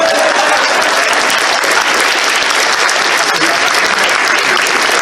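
Audience at a charity game show event breaks into sustained, loud applause, a dense wash of clapping that holds steady for several seconds without pause.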